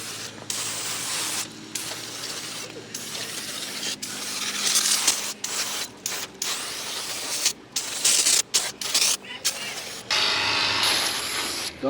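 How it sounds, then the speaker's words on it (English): Repeated bursts of hissing aerosol degreaser spray, each a few seconds long with short pauses between, close and fairly loud, with faint handling noises. "give everything a spray"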